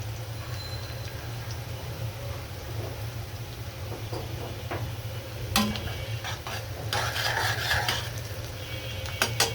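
Onions fry in a pan with ground spices for potato and liver curry, making a low, steady sizzle. Stirring and a few sharp clinks of utensil on metal build toward the end. No one speaks.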